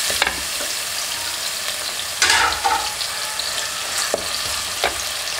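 Chopped ginger and green chillies sizzle steadily in a pan as they are sautéed for a Kerala-style vaala fish curry, with a few sharper stirring scrapes over the constant frying hiss.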